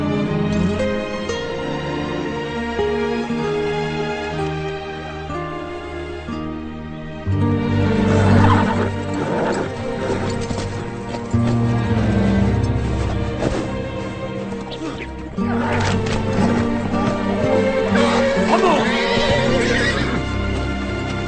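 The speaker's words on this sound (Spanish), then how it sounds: "¡Allá hay un par de caballos!" A pair of horses whinny and neigh over a scored soundtrack in an animated series, several loud, drawn-out neighs rising above the music, with faint hoof clip-clop.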